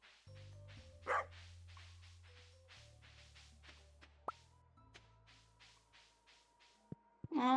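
A dog barks in short, sharp yaps at irregular intervals over a low synthetic hum and soft game-like tones, in the video game Stardew Valley.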